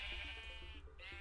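A sheep bleats in the Minecraft video game: a faint, wavering bleat sits over steady background game sound, with no talking.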